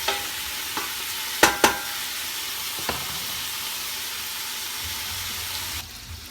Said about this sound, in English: I'm going to stir this around and get all these parts nice and brown